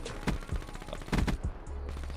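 Shotgun blasts in the first-person shooter Call of Duty: Black Ops 3, free-for-all mode: a few heavy, booming shots in quick succession with a low thump, then a lingering rumble of the game's background.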